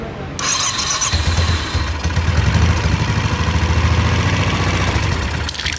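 A Royal Enfield motorcycle engine with a hydraulic tappet noise fires up and settles into a loud, close idle, its rapid even thumping and mechanical ticking running steadily for several seconds.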